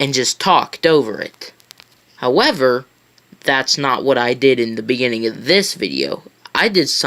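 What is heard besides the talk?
No everyday noise stands out behind the speech.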